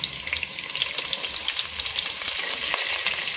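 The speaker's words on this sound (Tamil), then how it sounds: "நல்லெண்ணெய் ஊற்றியாச்சு, எண்ணெய் காய்ஞ்சிருச்சு. இப்போ வந்து ரெண்டு வெங்காயம், பெரிய வெங்காயம்," Two large onions fry in hot sesame oil for a crab pepper masala, a steady close crackling sizzle with occasional stirring and no voices.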